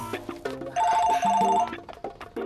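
A phone ringtone plays a short, bright electronic chirping pattern for under a second, close and clear, amid light background sounds.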